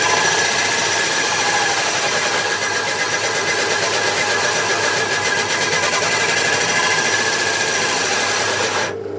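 An old, wobbly pillar drill runs with a steady, loud rasping whir and a faint mechanical buzz. The sound holds constant for about nine seconds, then cuts off abruptly at the end.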